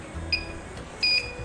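Two short high-pitched electronic beeps, about 0.7 seconds apart, the second longer, over a quiet background hum.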